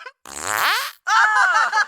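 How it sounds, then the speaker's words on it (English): Two cartoon fart noises from South Park, a short wet burst followed by a longer buzzing, tonal one, both loud and close with a brief gap between them. "now that you've farted, I think I might fart too"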